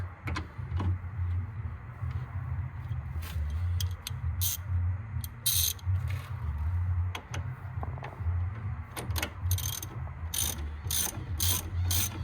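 A ratchet with a 17 mm socket tightens a track rod end nut on a Ford Focus MK2 1.6 TDCi, giving bursts of quick, sharp clicking strokes, close and fairly loud, separated by short pauses.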